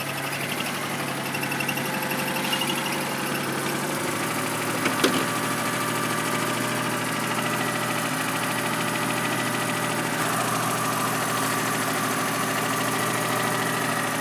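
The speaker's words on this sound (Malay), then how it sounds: "hidup enjin." Car engine with a slow-charging battery running at idle, a steady mid-pitched hum with a slight click partway through, heard alone without speech.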